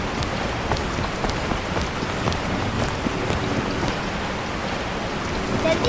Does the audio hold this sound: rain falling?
yes